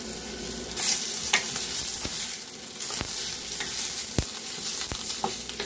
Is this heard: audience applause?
no